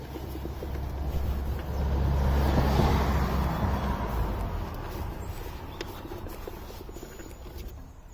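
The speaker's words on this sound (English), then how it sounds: "So I'm going to buff it all off now" Ceramic wax is buffed off a car's body panel, giving a close, steady rubbing hiss that swells slightly in the first few seconds and then eases off gradually, with no talking.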